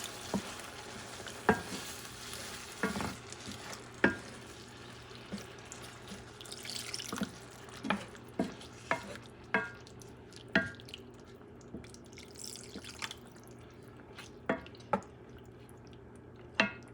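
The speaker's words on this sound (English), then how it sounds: "Let me add a little bit of water." Water is poured into a simmering Puerto Rican salted cod stew (bacalao guisado), with soft stirring, drips and a faint sizzle. Scattered clinks of a spoon against the pot punctuate a low steady bubbling throughout, with no talking.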